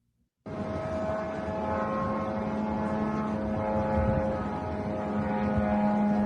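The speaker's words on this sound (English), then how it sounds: "You can hear the drone." A military drone flying overhead gives a steady, loud droning hum with a strong constant tone, starting abruptly and holding unbroken for several seconds with no talk.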